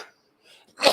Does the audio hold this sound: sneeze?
yes